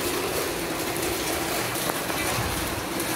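Heavy rain pours outdoors on a grass-cutting job with a mini grass cutter, a constant, loud hiss filling the whole moment without letup.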